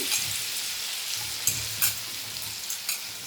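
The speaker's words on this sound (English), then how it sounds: "Dip it in besan flour and put it in the oil." Stuffed bitter gourd coated in besan flour deep frying in hot oil, with a steady, fairly quiet sizzle broken by a few sharper crackles and pops, with no voices.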